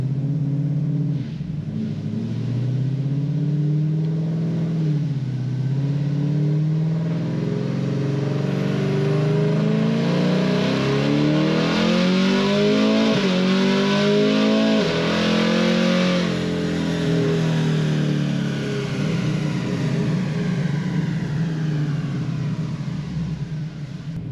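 A naturally aspirated sixth-generation Camaro accelerates hard, its engine rising in pitch through three automatic upshifts from third to fifth gear, loud and close with a deep rumbling roar.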